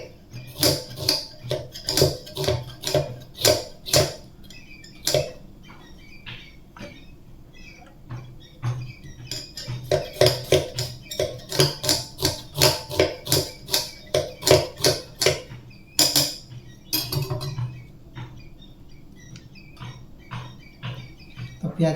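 Onions are chopped with a knife, probably on a board, in a bachelor's kitchen abroad: rapid, sharp rhythmic taps in bursts with short pauses, close by.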